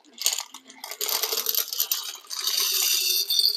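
Baking beans poured by hand into a pastry case for a ham and leek pie make a close, rattling clatter, with bursts of tumbling beans that build into a steady dense rattle toward the end.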